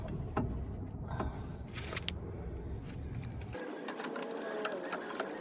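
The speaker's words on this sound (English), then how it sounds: "I'm removing the top bolt on the spindle." Top bolt being removed from the spindle of a 1999 Ford F150 during a lift kit install, heard as a rapid, continuous mechanical whir like a power tool spinning, close and steady, changing character partway through.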